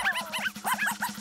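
A cartoon puppy yaps and whimpers in a quick run of high, bouncy barks over a rhythmic music beat, loud and close.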